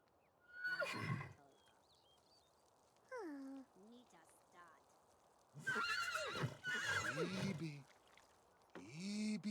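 Horses neigh and whinny several times in a city-building video game, the calls arriving in separate bursts with some clip-clop sounds between them.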